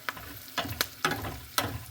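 Ginger fries in a hot oil spice tempering with fennel seeds and nigella seeds, with several sharp crackling bursts as a spoon stirs the pan, punctuating a quiet frying hiss.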